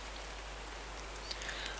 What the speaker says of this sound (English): even though the rain was hammering down